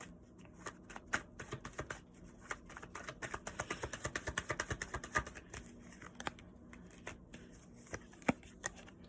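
Tarot cards are shuffled close by in a rapid run of crisp, quiet riffling flicks that speeds up in the middle and then thins to a few scattered taps, with no talking.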